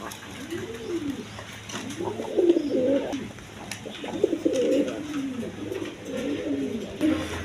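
Indian Bombay pigeons coo repeatedly at close range, low rolling burbles following one another in a steady rhythm over a quiet background.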